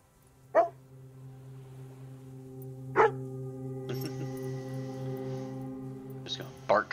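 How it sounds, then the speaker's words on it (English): A dog barks in the game Farewell North, with sharp single barks spaced a few seconds apart, ending in a quick double bark, over a steady sustained musical drone. "Just gonna bark constantly."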